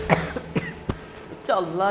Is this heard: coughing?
yes